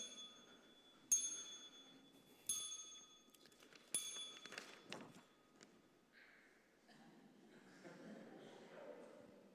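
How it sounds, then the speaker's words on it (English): During a Sunday morning church service, a bell is struck about four times at roughly one-and-a-half-second intervals, each bright ding ringing out before fading, followed by quiet voices and soft handling noises. "So as long as Miles rings the bell 5 times, Polly can come and collect it."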